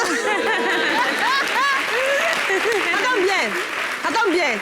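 Audience applause on a French-language television program, sustained clapping beneath overlapping excited voices and chatter, with some laughter mixed in.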